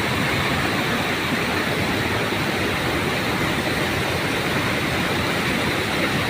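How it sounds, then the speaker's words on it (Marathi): A flooded stream rushing after heavy rain, with a loud, continuous roar of churning water close by and no break. "अजूनही दाखवतो खाली किती पुरं खाली जाणार आहे ओढ्याला"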